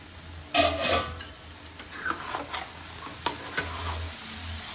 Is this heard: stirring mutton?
yes